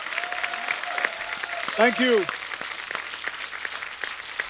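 Studio audience applause on a TV comedy show with a celebrity guest, a brief burst of clapping under a host speaking close to the mic.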